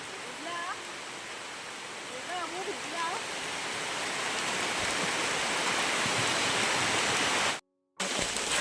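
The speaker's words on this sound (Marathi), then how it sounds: "एवढा पाऊस आहे ना पडून गेला चांगली मोठी सर आलेली" Steady monsoon rain pours down in a dense, even hiss that grows slightly heavier, with faint birdsong early on.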